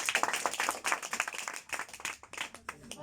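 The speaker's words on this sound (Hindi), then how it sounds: "ताली मारो ना बच्चा" Children clapping at a small gathering, a fairly close, uneven patter of hand claps in short bursts, with some talking mixed in.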